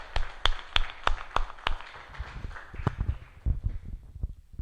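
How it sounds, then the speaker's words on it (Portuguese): A church congregation claps in praise to Jesus, with a few sharp, rhythmic claps at first that thin into scattered, softer claps and low rustling as the applause dies away. "É uma salva de palmas ao Senhor Jesus"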